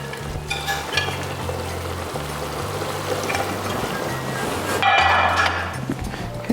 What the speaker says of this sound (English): all the leftovers from that steak, I'm going to add it back into my pan